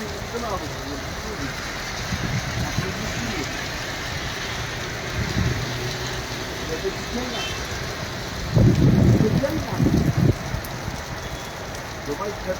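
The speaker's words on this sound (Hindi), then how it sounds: "ज़ोरों की बारिश का सिलसिला जो है वो कुछ देर से लगातार बराबर जारी है।" Heavy rain falling on a street in Srinagar, a continuous broad hiss with passing traffic rumbling through and a louder swell near the end; people talk faintly in the background.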